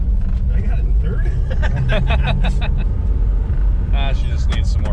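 Plymouth Barracuda Formula S with a 440 engine driving in third gear, a steady loud engine rumble running throughout with people talking over it.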